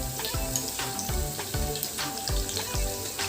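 Chopped garlic, ginger and green chilli sizzle in hot oil in a pan, a steady bright crackle with a few stirring knocks, close and fairly loud with no voices.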